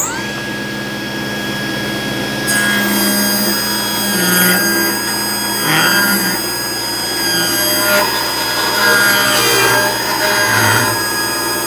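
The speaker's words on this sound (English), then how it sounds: "here's our example of our rip cut" A table saw runs with a steady high whine and motor hum while a rip cut is fed through wood, the blade's loading shifting in swells over several seconds.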